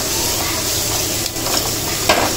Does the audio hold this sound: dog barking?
no